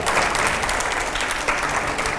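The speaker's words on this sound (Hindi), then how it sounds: "जोरदार तालियां" A TV studio audience gives a burst of loud, sustained applause, dense clapping that carries evenly from start to finish with no voices over it.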